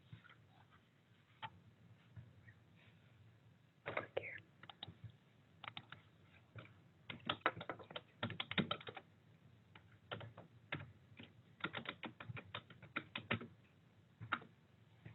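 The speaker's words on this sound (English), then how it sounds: "let me type my email here" An email address typed on a computer keyboard: sparse, faint key clicks at first, then quick bursts of tapping with short pauses, close and clear, with no voices.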